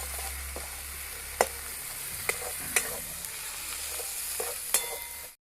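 Spice paste with turmeric, salt and sugar stir-fried in a pan for Bengali cauliflower roast, a steady close sizzle broken by several sharp spatula scrapes and clinks.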